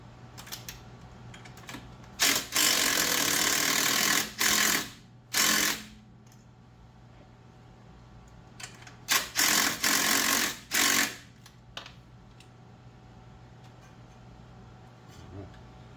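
A bolt is wrenched down to tension the serpentine belt on a Jeep Cherokee XJ during a water pump replacement. Several close, loud bursts of harsh mechanical ratcheting come in two clusters with pauses between, and no talk.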